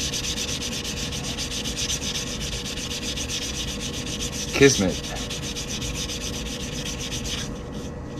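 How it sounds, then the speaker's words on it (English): Steady abrasive rubbing of sanding on the cut edges of metal coin rings, continuous and close, with a brief louder knock midway and no talking. "I'm just sanding down the cut edge of these rings, make them nice and smooth"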